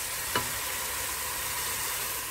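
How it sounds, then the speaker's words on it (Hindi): Masala spices frying in oil in a home kitchen pan, a steady broadband sizzle throughout with one brief scrape or stir near the start, no talk. "यहाँ मसाला भून रहा है"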